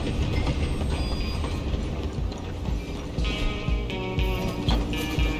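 Steam train running in the Red Dead Redemption 2 game: continuous dense rumble with rattling, clanking wheels and mechanical clatter, loud and close with no pauses.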